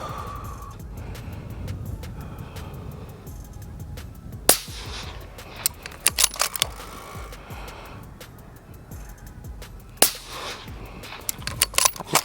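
Accuracy International rifle firing 6 Creedmoor factory ammunition at 560 yards, two sharp loud shots several seconds apart, each followed by short clattering handling sounds, over steady outdoor background noise.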